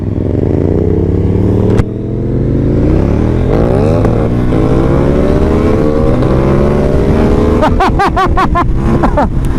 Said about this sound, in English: So here I am on the Superduke.